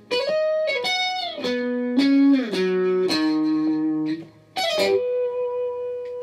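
An effects-laden electric lead guitar plays a fast-note riff, with quick bends and slides between sustained notes. The tone is bright and distorted with chorus, close and alone.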